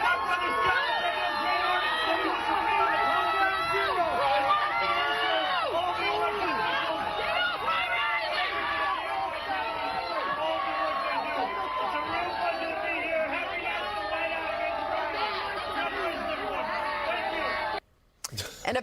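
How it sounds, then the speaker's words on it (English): Crowd booing Mayor Zohran Mamdani at a pro-police event in New York City, a sustained dense roar of jeers and shouting voices that continues steadily before cutting off abruptly near the end. "Here he is getting booed in New York City."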